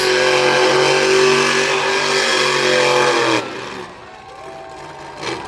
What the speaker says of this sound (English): now it looks like we're going to be seeing some Dusty Donuts here at Swedesboro